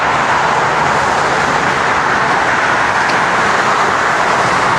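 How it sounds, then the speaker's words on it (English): Steady roar of road traffic crossing a border bridge over a highway toward the United States, a loud continuous wash of tyres and engines heard from close by with no distinct individual passes and no talking. "And there's the traffic going to the States."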